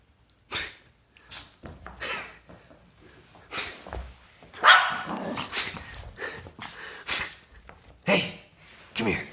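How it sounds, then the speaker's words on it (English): A Chihuahua barks in sharp, close bursts spaced irregularly, with some whimpering and growly sounds between them and a person talking in the background. "You show me how you bark."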